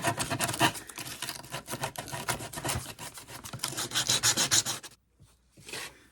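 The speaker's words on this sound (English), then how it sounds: "All right, I found a sheet of sandpaper" A sheet of sandpaper rubbed by hand over a thrift-store home decor piece, giving close, steady scratchy strokes in a quick rhythm that stop abruptly, followed by one brief final scrub.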